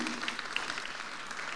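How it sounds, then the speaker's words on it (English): Conference audience applauding at a tech-industry event, a steady dense wash of many hands clapping at moderate distance, fairly soft and continuous. "So a big round of applause for Stephanie,"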